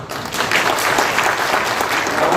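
A crowd at a national job fair event claps in a dense, even burst of applause lasting a couple of seconds.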